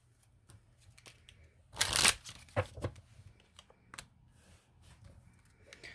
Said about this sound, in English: usually I shuffle as I go and deal out as I go